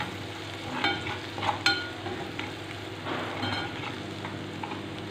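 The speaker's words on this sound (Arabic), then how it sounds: "شويه بابريكا، ونبتدي نقلب المكونات مع بعض." Minced meat with paprika is stirred and fried in a pan, giving a steady close sizzle broken by several spoon scrapes and knocks against the pan.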